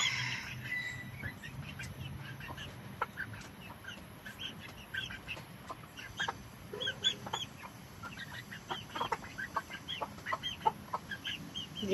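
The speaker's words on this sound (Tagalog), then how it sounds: "So, yan, nakita nyo ba? Mga alaga naming manok." Pet chickens kept at a home in Singapore cluck and chatter in scattered, overlapping calls over soft background noise, fairly faint and without any talking.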